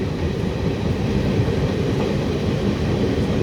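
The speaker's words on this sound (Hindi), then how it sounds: "और ट्रेन ने गति बढ़ा ली है अपनी" The Chitrakoot Express picking up speed on the rails near Katni Junction, a steady loud rumble and rattle of the carriages heard from on board, with no breaks.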